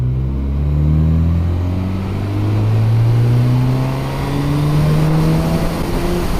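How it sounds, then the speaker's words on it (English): A 2019 Honda CB1000R motorcycle accelerates hard in fourth gear from 20 mph, its loud, close engine note rising steadily in pitch for several seconds with no talking. "Put it in fourth gear, get it to 20 miles an hour,"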